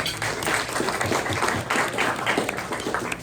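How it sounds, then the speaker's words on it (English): Sustained applause from a luncheon audience honoring a sponsor at a press luncheon, dense steady clapping filling the room throughout. "Let's give them a round of applause"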